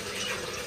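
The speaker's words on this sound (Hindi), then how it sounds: "अभी चलो एक बाल्टी पानी की निकल आई है।" Water runs from a tap into a bucket with a steady, close rushing splash throughout.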